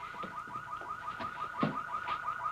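A car alarm chirps in a rapid repeating pattern, fairly faint and distant, continuing steadily with no pauses.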